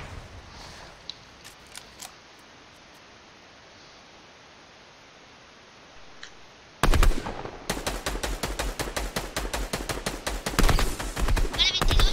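Rapid automatic gunfire bursts out in Fortnite after several quiet seconds, a dense string of close, loud shots with short pauses, while players talk over it.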